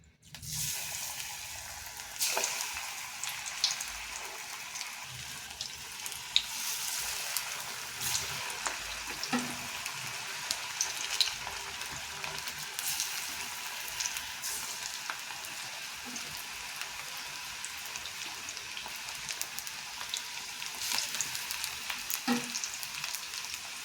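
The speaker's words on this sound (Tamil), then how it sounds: "இப்போ நம்ம அப்படியே போண்டா போட்டுடலாம்" Bonda fritters deep-frying in a pan of hot oil, a steady close bubbling sizzle that runs on continuously with faint occasional clinks and no voices.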